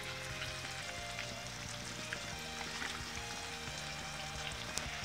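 Hard clams and garlic sizzle in a pan right after soy sauce goes in, a steady close crackle and hiss that runs unbroken with no one speaking.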